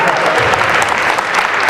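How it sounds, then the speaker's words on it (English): An audience at a 2013 all students meeting applauds, giving loud, dense, steady clapping from a crowd throughout the short stretch, close and without a break. "So a big round of applause."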